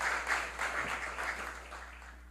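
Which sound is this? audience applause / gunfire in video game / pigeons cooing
audience applause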